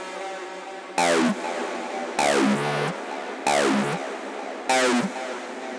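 Acid synth patch built in FL Studio Patcher: four squelchy resonant-filter stabs sweep downward over a steady droning bed, each burst about a second long and evenly spaced, moderately loud with no voices.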